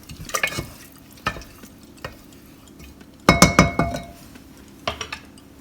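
A spoon stirs dal in a metal pressure cooker, giving scattered scraping clinks and knocks against the pot and a dense burst of rattling strokes partway through, close and clear with no talking.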